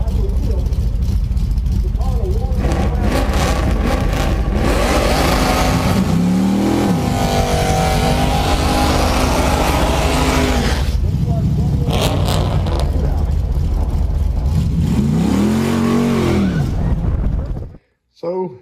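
A drag race car does burnouts, loud engine roar with repeated revving surges and screeching tire spin over about eighteen seconds, with a voice talking over the noise throughout before an abrupt cutoff.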